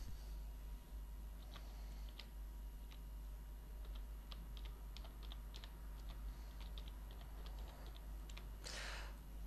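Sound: typing website name on computer keyboard

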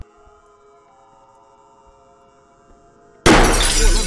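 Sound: handheld flashlight shattering in a horror video game

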